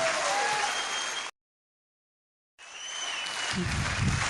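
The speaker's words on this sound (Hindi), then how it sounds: "आप सब लोग जोरदार ताली इसलिए बजाएं" Applause from an audience at an RCM business meeting, moderately faint and steady, cutting out briefly to silence midway before resuming with a low thump near the end.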